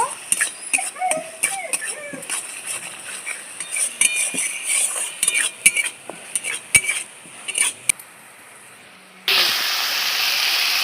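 Spices with salt and a little sugar are stir-fried in a pan for a rohu fish kalia. A spoon scrapes and clinks against the metal in busy, irregular strokes over a soft sizzle, then a louder steady hiss takes over near the end.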